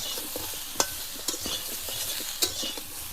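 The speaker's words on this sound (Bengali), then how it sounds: "ভাজার মধ্যে দিয়ে ভালোভাবে ভেজে নেব লাল লাল করে।" Potatoes and cauliflower fry with turmeric and salt in a pan, a quiet steady sizzle broken by a few sharp scrapes and clicks as they are stirred.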